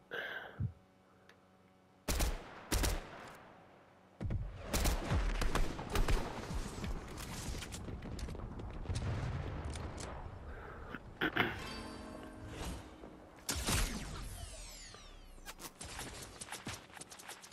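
Gunfire in a shooting video game: bursts of rapid shots and booming blasts over a busy, noisy mix, loud and dense through most of the stretch, with a few quieter gaps and no clear talk.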